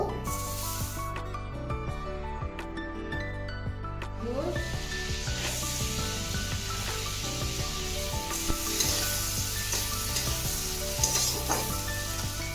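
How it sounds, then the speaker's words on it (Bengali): Butter sizzles and fries in a wok while the cook stirs, a continuous crackling hiss with scraping and rubbing, close and steady, with music playing underneath. "কড়াইয়ে আমি বাটারটা দিয়ে দেবো"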